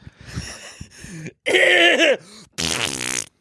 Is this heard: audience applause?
no